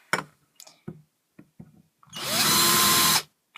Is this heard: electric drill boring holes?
yes